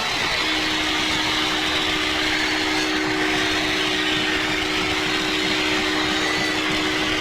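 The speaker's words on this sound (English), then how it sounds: "It's a train. The diesel horn." A diesel train horn sounds one long, steady, unbroken blast, held at a constant pitch over a background hum for several seconds.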